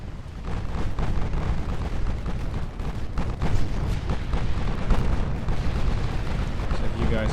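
Heavy naval gunfire from battleship 14-inch guns in the naval strategy game Ultimate Admiral Dreadnoughts, a dense, continuous rumble of booms and blasts rolling on throughout.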